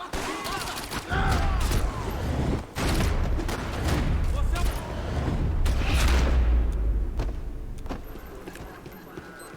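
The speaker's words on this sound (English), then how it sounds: "Just shooting the two guys." Gunfire in Max Payne 3 crackles in rapid bursts of sharp shots, loud and close, mixed with booming impacts and scattered sound effects; a voice talks in the background at times.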